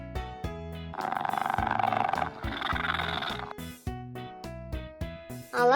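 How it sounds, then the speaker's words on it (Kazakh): Cartoon cheetah sound effect: a sustained raspy roaring snarl of about two and a half seconds, mixed with bouncy music, then brief musical stabs. "Гепард."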